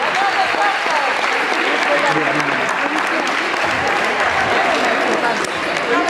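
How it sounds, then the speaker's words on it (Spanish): Sustained clapping from a village crowd at a tortilla contest in Barres, a dense, even patter of many hands with chatter underneath. "Un aplauso ahí para Ángela."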